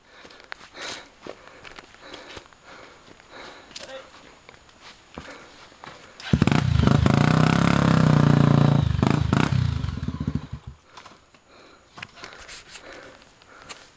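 A motorcycle engine on a dirt trail roars up loudly and close for about four seconds midway, held at high revs, with people talking before and after.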